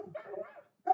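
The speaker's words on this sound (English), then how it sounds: "this is what it sounds like with a built-in laptop microphone with barking dogs in the background" Dogs bark in the background, picked up by a built-in laptop microphone: a few short, muffled barks and yips, fairly faint and distant, with a brief pause before a final louder bark.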